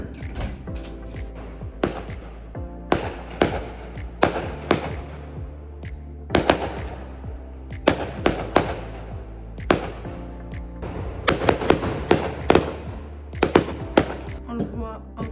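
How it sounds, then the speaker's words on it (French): A small fireworks display goes off outside, heard from indoors in a bedroom: a series of sharp bangs and crackling bursts, some in quick clusters, at moderate distance, with faint background noise between them. "petit feu d'artifice"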